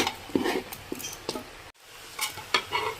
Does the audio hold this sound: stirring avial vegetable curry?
yes